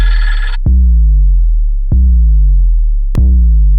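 A loud mobile phone ringtone: a brief bright melodic burst, then three sharp repeating tones with ringing decays, each spaced just over a second apart, alone with no voices.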